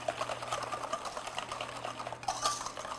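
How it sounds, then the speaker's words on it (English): Sugar being whisked into sweet potato pie filling in a bowl, a rapid rhythmic ticking of wire against the bowl repeating steadily, close and moderately quiet with no talk. "I'm just going to whisk that in till it's dissolved"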